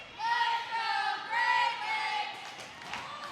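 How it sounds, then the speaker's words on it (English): A roller derby cheering section at a Great Lakes Roller Derby bout, a group of voices chanting and screaming in rhythmic rising bursts from the sidelines, fairly close, with an announcer talking over the end. "the Great Lakes cheering section, loud and proud, screaming, "Let's go, Great Lakes" from the sidelines"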